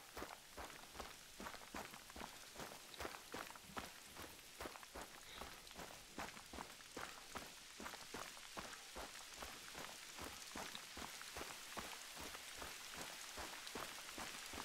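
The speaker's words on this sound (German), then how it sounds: "Ha, es regnet, natürlich." Rain falls in the hunting game theHunter: Call of the Wild, a faint steady patter with regular soft footstep-like thuds running through it, no talking over it.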